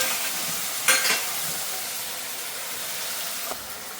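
Potatoes and onion fry in oil for batata poha, giving a soft continuous sizzle with a couple of brief utensil scrapes and taps against the pan, close and fairly quiet with no voices.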